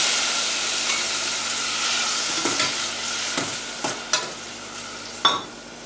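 Tomatoes frying with mustard seeds for chana masala make an even, hissing sizzle with scattered sharp pops and clicks that grow more frequent toward the end, close and with no talk.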